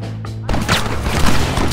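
Sniper rifle shots in the Red Dead Redemption game on PC, a sharp crack after a brief lull followed by a dense run of loud, cracking reports and impacts.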